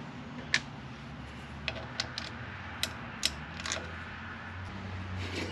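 A spring catch being fitted on a backcountry ski binding gives off a few small, sharp metallic clicks and ticks, scattered irregularly and close up against a quiet, low background hum.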